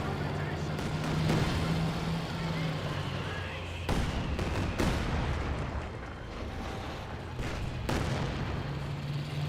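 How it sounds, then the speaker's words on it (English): Katyusha rocket barrages and 150mm mortar fire in the strategy game Company of Heroes 2, with several deep booms and blasts over a continuous rumbling battle bed, while a voice talks over the action. "Katyushas and 150mm mortars"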